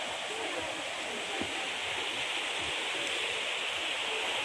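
Steady rushing of clear water in the Kali Cemplong river in Malang, a continuous broadband flow with no pauses, fairly close and even in level throughout.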